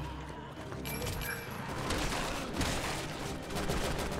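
Rapid bursts of gunfire in the video game Resident Evil 6 crackle in quick succession, a sustained fusillade with sharp bright edges, moderately loud and with no voices.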